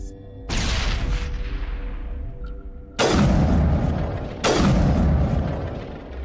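Grenade blasts in the Mass Effect video game: three heavy booming explosions, the first at about half a second and two larger ones a second and a half apart later, each with a long rumbling decay, loud and close with no talk.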